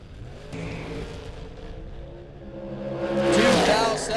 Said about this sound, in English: Dragster over there.